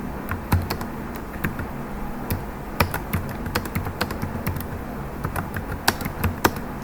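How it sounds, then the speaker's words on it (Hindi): Computer keyboard keys tapped in irregular bursts while Urdu text is entered, close and clear with soft clicks over a low background hum, no voices. "इस तरीके से आप उर्दू टाइपिंग कर सकते हैं।"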